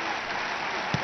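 Spectators clapping at an Olympic women's beach volleyball match, a continuous broad wash of crowd applause with a single low thump near the end.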